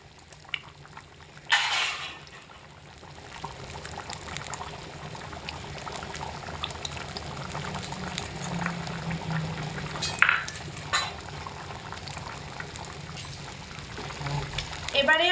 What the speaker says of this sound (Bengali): আমি খিচুড়িটা প্রথমে দশ মিনিট হাই আঁচে রেখে গড় করে ফুটিয়ে নিয়েছি